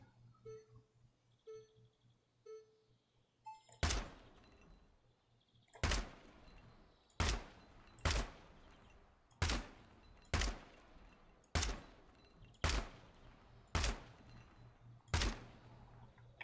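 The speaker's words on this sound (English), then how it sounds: "Time to be really good at tap firing, which I'm not." Full-auto gunfire in Gunsmith Simulator, fired in short taps: about nine sharp, loud reports spaced one to two seconds apart, each with a brief ringing tail, after a few quiet mechanical clicks.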